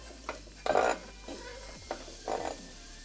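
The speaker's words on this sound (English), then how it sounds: "We're cooking the lobster mushrooms up until almost all of the moisture is out of them and they start to brown" Chopped lobster mushrooms cook in a pan, with a spoon or utensil scraping and stirring in a few distinct bursts over a low sizzle, close up and without speech.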